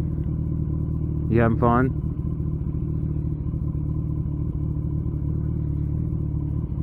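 A Kawasaki ZX14R motorcycle rumbles steadily at close range after a throttle-heavy downshift, its low engine drone and wind noise continuous beneath a brief spoken question from the rider.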